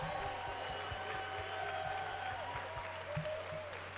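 An audience at a Nintendo gaming tournament event applauds, a steady, even patter of many hands clapping, fairly faint and distant, over a low hum with faint voices.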